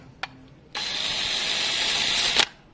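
A polishing wheel on a drill, used with metal paste on the wheel of a Yamaha Fazer 600 motorcycle, whirs in one steady, loud, close burst of about two seconds, preceded by a brief click.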